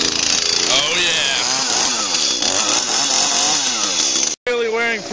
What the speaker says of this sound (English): Time to get involved in a little chainsaw activity. Gotta make some firewood.